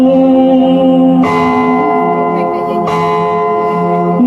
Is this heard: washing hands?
no